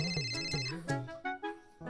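A telephone ringtone chimes in a Marathi TV serial household, a repeating electronic melody with clear tonal pulses, fairly loud and close, with no voices over it.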